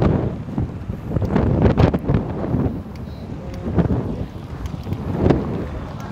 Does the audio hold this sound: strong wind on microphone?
yes